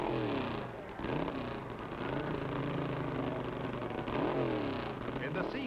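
F Gasser class drag racing car at the 1963 U.S. Nationals, engine roaring and revving as it runs, the pitch rising and sweeping repeatedly, loud and continuous with some mixed crowd or announcer noise.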